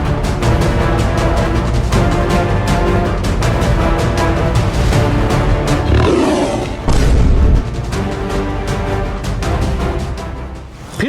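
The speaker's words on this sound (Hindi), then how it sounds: "साला ये शेर कहां से आ गया?" A lion's roar played as a sound effect, loud and sustained, with dense rumbling growls that run almost unbroken for about eleven seconds and a brief surge near the middle.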